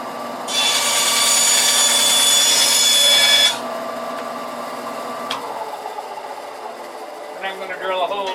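A 3/8 inch wooden dowel being sawn to trim off about an inch: a bright, steady rasping burst lasting around three seconds, close and fairly loud, then fading into quieter handling noise.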